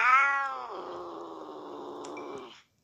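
A cat in the Cat From Hell video game lets out one drawn-out, wavering meow that slides into a low, groaning caterwaul, close and clear with no talk over it.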